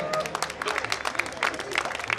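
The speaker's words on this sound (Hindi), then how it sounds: "आप तालियां बजाकर स्वागत करते रहें।" Scattered audience clapping to welcome performers at a Jain religious festival, irregular claps mixed with crowd murmur and some voices, moderately distant and not very loud.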